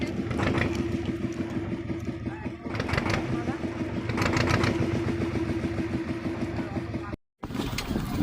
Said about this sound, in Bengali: ফাইনালি রাঙাবিলিয়া পথ থেকে কিন্তু আমরা বাইকে যাত্রা করছি।